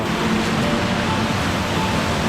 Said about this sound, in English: You can already hear the waterfall from here.